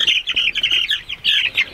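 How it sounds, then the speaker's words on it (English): Cornish Cross meat chickens heading into their coop on a cold, rainy night, giving a steady run of close, high chirping and peeping calls with brief pauses. "Coming back to the Cornish Cross Meat Birds."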